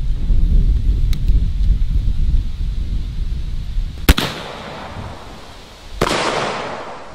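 A Zeus 12 gauge shotgun fires a Federal podium wad load of 1 ounce of shot through a full choke at 50 feet: two sharp, loud blasts a couple of seconds apart, each trailing a ringing decay over steady outdoor rumble.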